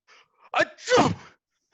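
A single sharp sneeze, a short inhaled catch followed by a loud explosive burst, close and alone in silence.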